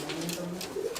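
Madrasi pigeons, a Bhanvra breed, coo softly with low rounded calls rising and falling over a steady background murmur, fairly close and unhurried.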